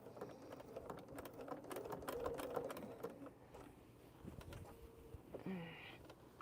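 Sewing machine stitching slowly through a duffle bag at a quilting table, a soft stuttering run of needle clatter at moderate distance, then easing off and pausing.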